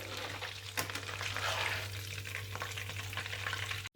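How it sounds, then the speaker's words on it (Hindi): Chicken pieces fry in hot oil in a pan, a steady close sizzle with stirring scrapes and a constant low hum beneath. "उसको भी हम इसमें डालकर इसी तरह से फ्राई कर लेंगे"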